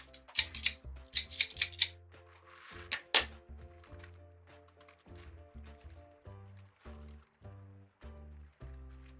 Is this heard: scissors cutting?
yes